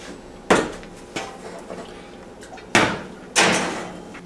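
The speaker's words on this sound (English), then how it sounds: "So we're going to put this back in the oven." An oven door handled as a dish goes back in, with a few sharp clunks and bangs of metal, two louder slams near the end, close and without talk.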